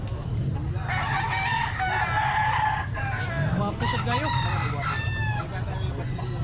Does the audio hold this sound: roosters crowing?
yes